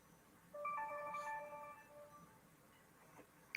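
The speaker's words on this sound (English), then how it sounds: "oh, I wish I knew what I did with my phone. I hear it ringing" A phone somewhere in the house plays a melodic electronic ringtone for about a second and a half, moderately loud but slightly distant, then fades into quiet room noise.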